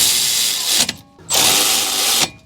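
A Milwaukee power tool runs the brake caliper bracket bolts snug on a Toyota Camry, giving two close, loud whirring bursts with a brief pause between them.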